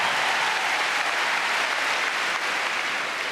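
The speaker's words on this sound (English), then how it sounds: "give him a round of applause" A dense, steady wash of audience applause at an international dog agility competition final, many hands clapping together at an even volume throughout with no voices standing out.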